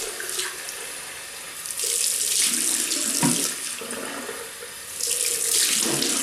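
A razor is rinsed under a running tap, water splashing steadily close by in the sink, with surges and short interruptions as the blade moves through the stream.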